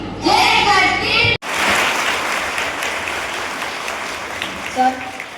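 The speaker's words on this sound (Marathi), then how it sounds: "सर स्वतः यासाठी टाळ्या वाजवतो." A women's empowerment workshop audience of teachers claps after a speaker's voice cuts off. The applause is a dense, steady roar of hands that fades slightly, with a brief voice near the end.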